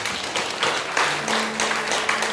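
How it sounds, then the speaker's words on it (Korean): A congregation at a Sunday church service claps briefly in thanks, with short dense applause over a faint sustained tone underneath. "감사 박수 한번 하십시오"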